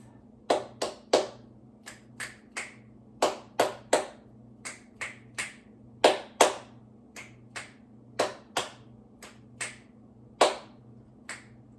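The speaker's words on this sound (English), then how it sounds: "Call these clap snaps." Finger snaps and hand claps in a short stretching and breathing session: about twenty sharp, close snaps and claps in loose clusters of two or three, over a low steady hum.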